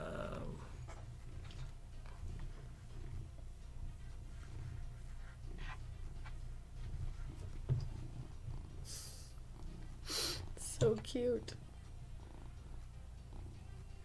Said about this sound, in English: does anyone hear that in in the mic? Her purring.